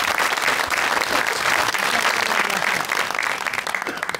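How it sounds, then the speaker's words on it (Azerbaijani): Audience applause at a comedy show, a dense, steady wash of many hands clapping from start to finish, loud and unbroken. "Alqışlarınızla biz başlayaq."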